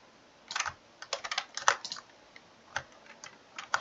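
A computer keyboard clatters with quick bursts of close, crisp key presses and short pauses between them, fairly quiet and with no voices.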